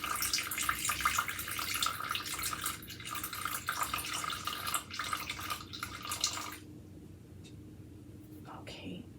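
Water runs into a container for sourdough grissini dough, a steady pouring hiss that stops near the end, with someone talking quietly over it.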